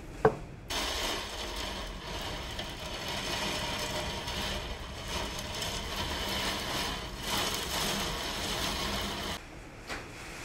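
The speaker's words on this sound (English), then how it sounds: "it's now hailing and blowing 80 miles an hour" Steady broadband roar of hail and wind blowing about 80 miles an hour outside, dense and continuous with rattling texture, swelling in waves for about ten seconds.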